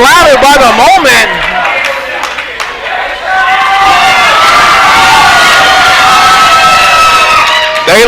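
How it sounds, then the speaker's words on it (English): A wrestling crowd at an Anarchy Wrestling show in Cornelia cheers and shouts. A burst of whoops and yells dips briefly, then swells into a loud, sustained roar of cheering that fills the room. "And this crowd, they're getting louder and louder by the moment."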